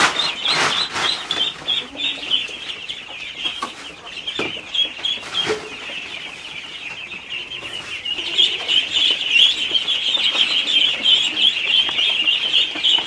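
Chickens cluck and chatter steadily inside a farm chicken house holding broiler birds in the morning, a dense continuous flock noise with a few louder knocks and handling sounds, growing busier toward the end.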